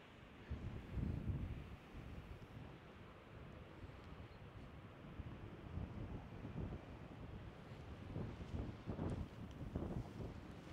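Strong wind buffets the microphone high on a mountain in Velebit, Croatia, a loud continuous roar with gusty surges and no talk.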